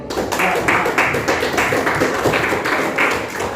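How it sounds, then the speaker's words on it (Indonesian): Eighth-grade class in a school classroom applauding the student presenters, a short burst of rhythmic, fairly close clapping in repeated pulses. "sekali lagi tepuk tangan untuk para pemateri"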